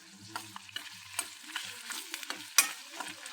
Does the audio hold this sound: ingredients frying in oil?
yes